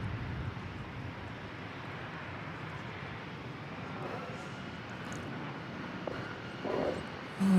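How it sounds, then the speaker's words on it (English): Airbus A321, American Flight 2897, departing DFW Airport, a steady broad jet engine roar heard from a distance and holding level throughout. "I believe that to be American Flight 2897, an Airbus A321 going out to St. Louis."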